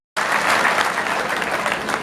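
Steady, dense applause rises suddenly from an audience at a BJP foundation day conference of active party members in rural Udaipur.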